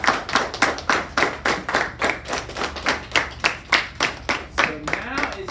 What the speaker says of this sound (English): So can we give him another round of applause?